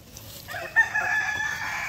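A rooster among farm chickens, asil and shamo fowl, crows once in a short call, with soft clucking around it close by.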